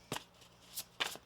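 Tarot cards shuffled in short bursts, three or four crisp riffling rustles with brief quiet gaps between, close and fairly soft.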